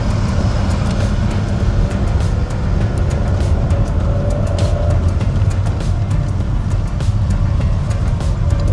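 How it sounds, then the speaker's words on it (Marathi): Heavy road traffic on the Mumbai–Pune Expressway through the Lonavala ghat at night, heard as a loud, constant low rumble of engines and tyres with steady road roar, likely from inside a car, no talking. "बघा तुम्ही ट्रॅफिक कसं आहे"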